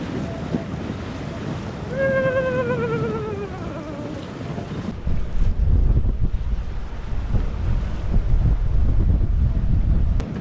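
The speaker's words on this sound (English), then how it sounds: "It's blowing 23 knots in here." Strong wind of about 23 knots buffeting a Beneteau 423 sailboat, a steady roar of gusts and microphone rumble with water noise, plus a brief rising whistle early on.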